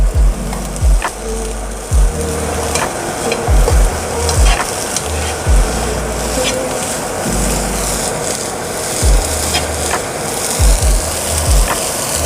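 Vegetables and mushrooms stir-frying with soy sauce in a pan for a fish stir fry, a steady loud sizzle broken by repeated scraping stirs and low knocks of the spatula, with no voices.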